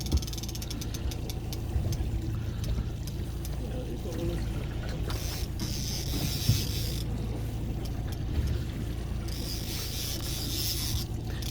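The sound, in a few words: fishing reel drag clicking while trolling for Baltic salmon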